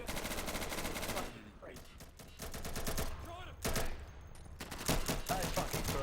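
Rapid bursts of gunfire from a drum-magazine gun in a video game, loud and close, firing in several sustained volleys with brief gaps, with voices and game noise underneath.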